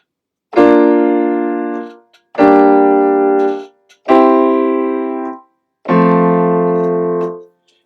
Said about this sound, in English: and I will now play this progression.